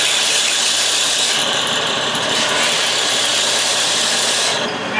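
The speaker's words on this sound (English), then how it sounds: "one of the things we need to do is cut little relief cuts on the actual bamboo pieces. And that's done quickly on the sander" A power sander cuts small relief notches into bamboo laminations for a repeating crossbow, a loud continuous whining grind that shifts in pitch as the wood is pressed in.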